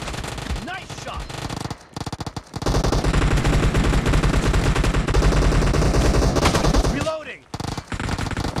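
Rapid machine gun fire in the PUBG video game, sustained bursts of loud automatic shots over several seconds with brief pauses, plus game voice callouts and short gaps between volleys.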